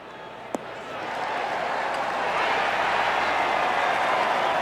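A golf gallery in the PGA Tour 2K21 video game swells into sustained cheering and applause after a shot, rising from quiet to a loud, steady roar.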